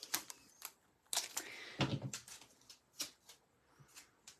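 Close, quiet handling of a roll of tape produces a series of sharp ticks, crinkles and a brief ripping pull, irregular and sparse.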